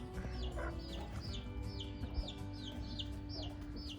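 Rooster and hens around a village tree clucking in repeated short calls over a steady low background hum, close and moderately loud, with a rhythmic run of clucks throughout.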